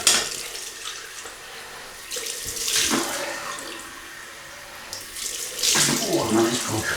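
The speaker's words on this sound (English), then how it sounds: "we'll have a cold water rinse" Cold water runs steadily from a tap into a sink for a rinse during a wet shave, with the flow surging louder in bursts. It is close and continuous.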